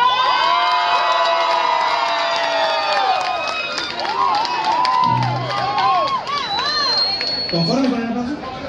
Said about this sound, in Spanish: aplausos para la pareja número 1